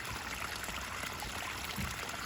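Water from a small waterfall pours steadily into an indoor turtle pond, a constant close splashing trickle that runs unbroken throughout, with no voices.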